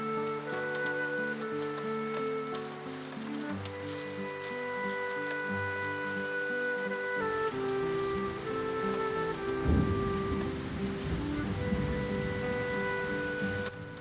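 Steady afternoon rain falls over a village, a continuous close patter on surfaces with occasional heavier splashes, staying even and moderately loud throughout, with no one speaking.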